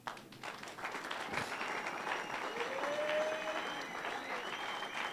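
A church congregation claps hands in steady, continuous applause at moderate distance, a fairly even wash of claps with a faint tone and crowd murmur underneath.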